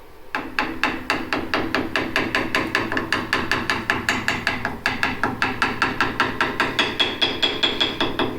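A hammer taps a cleaned metal tube for a sound test, striking in a fast, even rhythm, roughly four blows a second. The sharp, ringing knocks are loud and close, with no talk.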